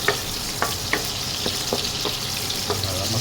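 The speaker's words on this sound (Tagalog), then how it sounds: "gisa mo natin yung ating bawang" Garlic sautéing in hot oil previously used to fry fish and eggplant gives a steady, close sizzle with scattered sharp crackles and pops throughout.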